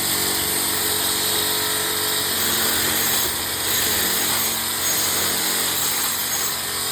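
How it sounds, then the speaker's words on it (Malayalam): Power tools run steadily as construction workers labour nearby, a continuous whining, grinding drone with no pauses that stays loud and even throughout, with no talking. "ഇവിടെ വീണ്ടും പണി സ്റ്റാർട്ട് ചെയ്ത് പണിക്കാർ. നല്ല സൗണ്ട് ഉണ്ട് കേട്ടോ."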